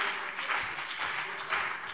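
Sustained applause fills a parliament plenary chamber, a dense wash of many hands clapping, loud and steady with slight swells, no one speaking over it.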